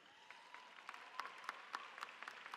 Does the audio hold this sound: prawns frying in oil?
no